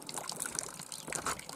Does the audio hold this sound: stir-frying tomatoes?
no